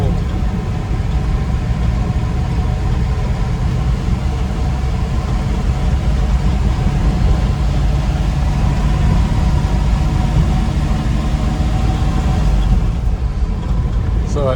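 A 1964 Ford F-350 dump truck engine runs steadily and loudly close by, a constant low rumble that holds for the whole stretch on a cold day.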